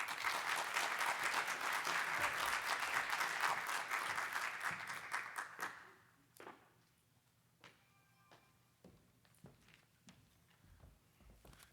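Audience applause welcoming a speaker at a summit, dense and steady for about six seconds, then thinning to scattered claps and small sounds as the room settles.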